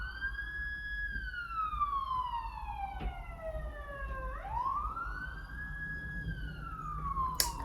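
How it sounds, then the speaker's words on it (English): Police siren passing on a busy city street, a single wailing tone sweeping slowly up and down at moderate distance over low traffic rumble, with no talking. "I live on a very busy street, so you're gonna hear sirens and cars going by like 24/7 in my videos"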